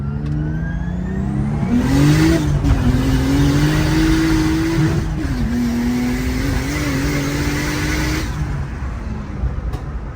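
A turbocharged M50-engined Nissan 180SX pulls hard, its loud engine note rising and wavering through sustained acceleration for about eight seconds, heard close from inside the car.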